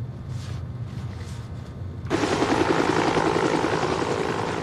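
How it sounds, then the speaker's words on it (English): A Lifestar medical rescue helicopter's rotor beats and engine roar fill the air, becoming abruptly louder and closer partway through, then holding steady. "She was taken by Lifestar helicopter 120 miles to the University of Tennessee Hospital"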